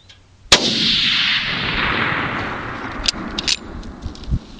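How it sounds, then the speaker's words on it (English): A single loud rifle shot fired while hunting groundhog outdoors, a sharp crack followed by a long echoing decay, then a few faint metallic clicks. "Shot over him."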